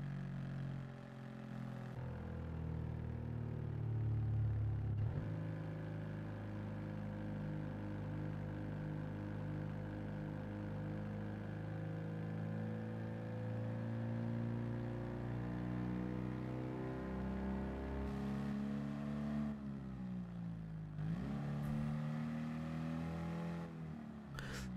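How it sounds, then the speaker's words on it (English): Race car engine on a track, a sustained loud roar at high revs with shifting harmonics, brief gear-change dips around the fifth and twentieth seconds, heard alone without talk. "we're just gonna let the sounds of the engine serenade you for a second."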